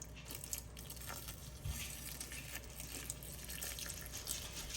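Water pours from a watering vessel into the soil of a potted hoya plant indoors, a soft, continuous trickle with faint splashes, quiet and close.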